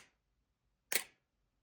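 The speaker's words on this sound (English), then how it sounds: "basically what that just did was it just took a picture" A camera shutter fires once on a body with no lens attached, giving a single sharp, close mechanical snap that stands alone in near silence.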